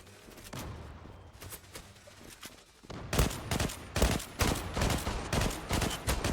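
Rapid bursts of gunfire in the game Zula, steady at first then louder and denser, with sharp repeated shots like an AK-47 firing.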